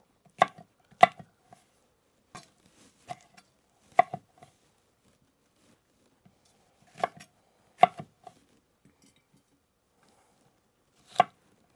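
A knife chops hot peppers on a cutting board for a lacto-fermented hot pepper sauce, giving a dozen or so sharp, separate strikes in irregular clusters with quiet gaps between, close and clear with no talking.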